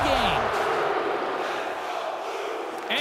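Hockey arena crowd during a tied Stanley Cup Finals game between the Penguins and Blues, a steady loud roar of cheering with scattered shouts throughout.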